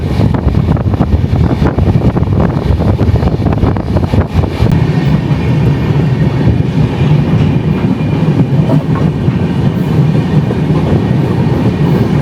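Inside an AC 3-tier economy coach on a Puri to Howrah train, a steady, loud rumble and rolling clatter of the moving train fills the space without pause, and no one speaks.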